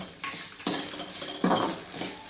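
Lentils sautéing with salt in a pan as a utensil scrapes and stirs, giving a few sharp clinks over a soft sizzle, close and alone.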